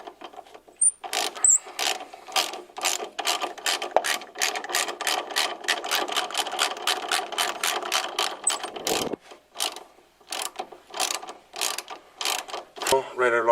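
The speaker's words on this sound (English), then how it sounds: "Now we'll just bolt it down." A ratchet clicks rapidly and steadily while tightening bolts on an emergency brake cable bracket of a Coyote-swapped Foxbody Mustang, close up, pausing briefly before a few slower final clicks.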